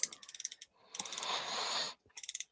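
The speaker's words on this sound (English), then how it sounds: "They even sound like a proper ratchet." Ratcheting hip joints on a Transformers-style action figure from Master Mind Creations, close, crisp bursts of rapid clicks in three separate runs with short silences between, quiet and without voices.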